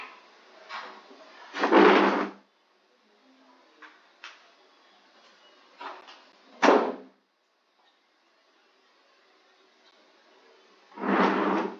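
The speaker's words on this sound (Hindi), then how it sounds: "please close the door first" A door is shut indoors in a quiet room, with several sharp knocks and thuds, the loudest bursts near the start, middle and end, separated by stretches of near silence.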